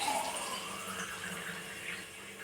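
Water poured into a pot for mealmaker biryani, a continuous splashing, gurgling stream that softens slightly toward the end, close and moderately quiet with no talking.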